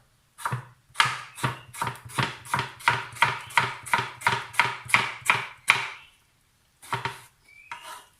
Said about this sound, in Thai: ตัวมะเขือเทศเนี่ยครับ ก็ทำไมถึงต้องหั่นนะครับ